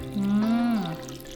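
Salad dressing is poured into a Thai fried egg salad, a short close pour with a smooth liquid trickle lasting under a second.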